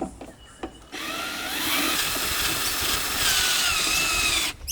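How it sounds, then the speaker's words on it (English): A power drill set to forward cranks a trailer's jack to adjust its height, a loud steady whine running for several seconds after a few light knocks, then stopping abruptly. "So this is where the drill comes in handy."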